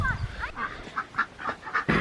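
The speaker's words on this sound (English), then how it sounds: "The ducks are, mama ducks are off the nest here." Mother ducks off their nests on a farm quack in a series of short, nasal calls, fairly close and moderately loud, with brief pauses between them.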